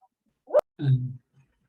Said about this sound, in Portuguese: a cachorra está latindo